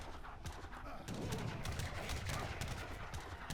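Cannon and artillery fire in the video game Age of Empires III, a dense run of sharp, rapid gunfire and blasts layered in a busy battle mix.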